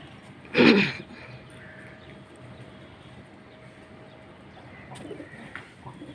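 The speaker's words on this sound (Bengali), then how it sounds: "পায়রা কাক সব গম খাচ্ছে।" Pigeons coo on a Kolkata rooftop while they and crows peck at scattered wheat in light rain. One loud, close burst comes early, then the bird sounds drop to faint, scattered calls over a quiet background.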